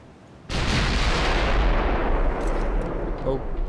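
Stern guns of a warship in Ultimate Admiral: Dreadnoughts, in a Bismarck versus Hood battle, fire in one sudden, very loud booming blast that roars on with a heavy low rumble for several seconds.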